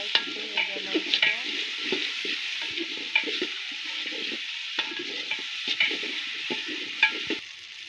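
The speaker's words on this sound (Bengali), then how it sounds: "এই যে এখন এর মধ্যে বাটা মশলাগুলো সব দিয়ে দেওয়া হলো। পেঁয়াজটা ভাজা ভাজা হয়ে গেছে" Sliced onions and ground spice paste fry in a pan with a steady sizzle, punctuated by repeated scraping and stirring sounds of a spatula against the pan, with no talking.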